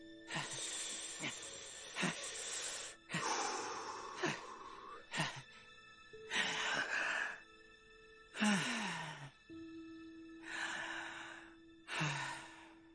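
Cartoon characters breathing slowly and deeply to calm down, a series of audible breaths in and out, each a few seconds long and separated by short pauses, close and fairly quiet.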